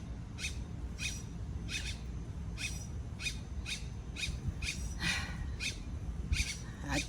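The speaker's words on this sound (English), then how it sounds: "I wish I could see the birds that's making those sounds" Repeated short high-pitched bird calls, evenly spaced about every half second, ring out over a steady low rumble of background noise.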